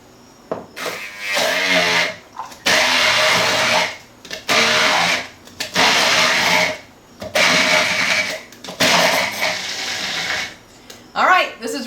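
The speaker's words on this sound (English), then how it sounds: "That's getting mixed up with an immersion blender." Immersion blender whirring through a roasted garlic and walnut puree with cider vinegar and olive oil, running in five or six loud bursts of a few seconds each with brief pauses between, close by.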